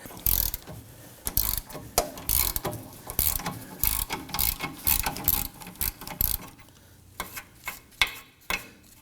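A ratchet wrench clicks in rapid bursts as a 17 mm nut on a rear sway bar link of a 2018-2024 Toyota Camry is loosened, close up, with short pauses between strokes and a few slower clicks at the end.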